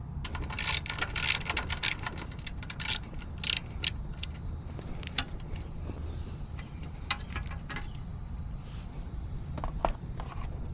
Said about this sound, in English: we can remove the bracket itself. It is held on by two